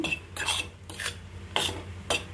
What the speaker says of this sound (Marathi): आपण रव्यामध्ये आता दीड वाटी दूध टाकलेलं आहे चांगलं आता मिक्स करून घेऊ